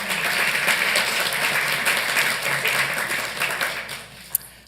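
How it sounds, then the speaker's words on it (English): Audience at a Santa Ana city council meeting applauds steadily for several seconds, a dense wash of clapping that gradually thins out toward the end. "Let's give them a round of applause, please."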